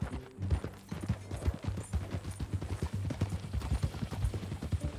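Horse hooves from the video game Red Dead Redemption 2 clip-clop in a steady, fairly close rhythm, the repeated hollow knocks continuing throughout.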